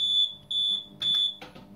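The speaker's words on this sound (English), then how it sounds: "it has two separate buzzers, two separate noise buzzers, one for the gamble" A shrill electronic buzzer on a 21UP fruit machine, the gamble or pontoon buzzer, sounds in three short, steady bursts with brief gaps, followed by a softer rattle.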